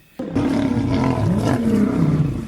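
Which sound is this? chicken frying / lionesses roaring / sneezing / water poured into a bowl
lionesses roaring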